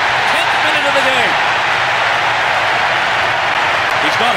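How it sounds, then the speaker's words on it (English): Capacity stadium crowd at a 2018 World Cup match between Peru and Denmark, a dense, constant roar of cheering and applause celebrating a goal, with a commentator talking over it. "The capacity crowd are enjoying the goal celebration"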